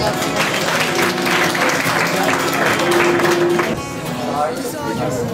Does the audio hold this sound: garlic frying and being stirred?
no